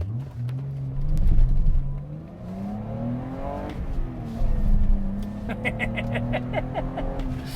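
A BMW 325i E30 pulls hard in first gear, its engine note climbing steadily and loudly from inside the car, easing briefly before rising again, with a thin whine showing late in the run.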